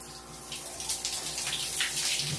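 Shower water runs steadily and close by, a broad continuous spray with slight fluctuations in flow and no talking over it.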